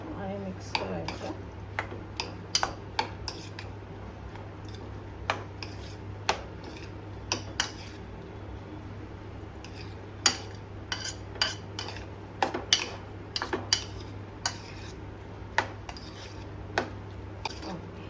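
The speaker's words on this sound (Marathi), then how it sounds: "आणि मिक्स करायचं।" A spoon stirs chili powder into chopped raw mango and onion in a bowl, giving repeated light scraping clinks against the dish over a steady low hum, close and fairly quiet.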